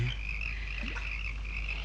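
Frogs croaking by a lake, used as a radio drama background effect: a steady chorus of croaks with a constant low hum and faint chirping layered throughout, even and unbroken.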